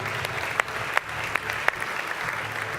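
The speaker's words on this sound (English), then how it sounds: "Give him a massive round of applause" Audience applause in a large event hall as Grant Dalton of the America's Cup walks onstage, a steady wash of clapping with a few sharp louder claps standing out.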